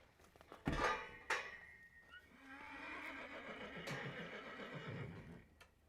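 Horses whinny loudly in two sharp bursts as they are unloaded at a large animal emergency shelter. Lower snorts and a steady background of clattering metal follow, with no speech.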